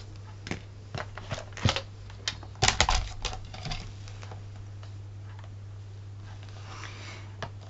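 Material for a handmade box is cut in a run of short, sharp crunching and snipping sounds, busiest around the middle, then thinning to sparse clicks over a low steady hum, with no voices.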